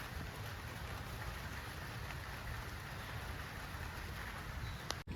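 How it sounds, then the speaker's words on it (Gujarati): Steady rain falling outdoors, a dense continuous hiss of drops with no pauses, moderately loud throughout and no voices. "બોલો તો ટીપા પડે છે પટ પટ પટ પટ"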